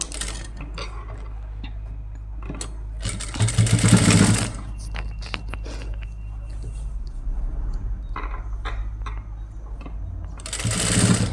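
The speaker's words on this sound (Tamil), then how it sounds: "இந்த மாதிரி ஒரு படிமான தையலை நம்ம போட்டுட்டு வருவோம்" Blouse piping is stitched on a sewing machine in two short whirring runs, one near the middle and one at the end, between quieter stretches of ticking handling sounds and a low hum.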